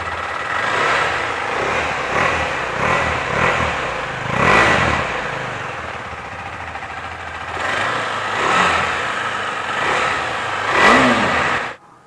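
A KTM 390 Adventure with a 390cc single-cylinder engine starts up and runs close by. It idles steadily and is blipped into several short revs, with no talking.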